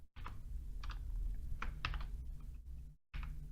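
Quick bursts of typing on a computer keyboard, with clustered clicks and short pauses, recorded close and clear with no talking.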